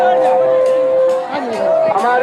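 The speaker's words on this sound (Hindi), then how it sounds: "काफी भीड़ है, मीडिया के तमाम लोग हैं" A crowd and media gathered around a politician make a close, steady hubbub, with voices calling and chattering over one another throughout.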